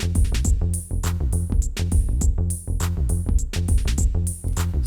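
Arpeggio pattern from a Roland MC-303 groovebox, fast repeating synth notes over a steady beat with bright accented hits, loud and close with no talking.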